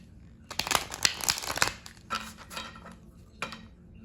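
A handful of quick crisp riffles and slaps of tarot cards being shuffled, close by, in short irregular bursts with quiet gaps.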